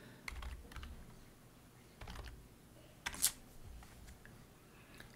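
A password is typed on a computer keyboard in a few quiet, scattered bursts of key clicks with one sharper tap, close up and alone.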